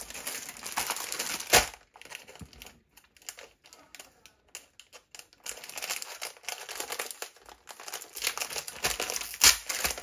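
A Lego Star Wars blind bag is torn and opened by hand, giving close, crisp plastic crinkling and rustling in irregular bursts with short quiet gaps between.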